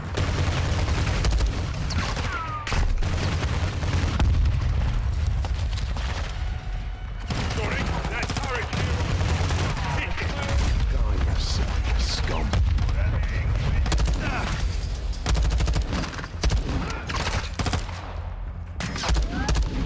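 Heavy gun firing in a shooter video game, rapid bursts of automatic fire going almost nonstop through the whole stretch, loud and close, with booms and battle noise layered under it.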